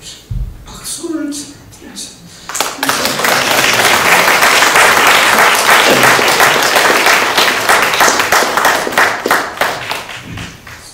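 A church congregation applauds a guest professor, loud dense clapping erupting after a short spoken introduction and sustained for several seconds before tapering.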